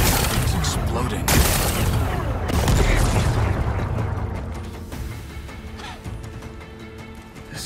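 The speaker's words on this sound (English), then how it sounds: "Gotta blast away some rocks so I can expose the power cell. It's working! It's exploding." Explosions blast apart rocks in Horizon Forbidden West, heavy booms and crashing debris rolling in a dense series, loudest early on and then thinning into scattered rumbles and clatter while someone talks over it.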